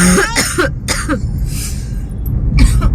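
Several sharp, harsh coughs in quick bursts, fairly close, with a throat-clearing rasp among them and low background noise between.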